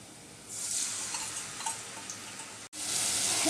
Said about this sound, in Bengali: এই তো আমার মরিচ কষানো হয়ে গেছে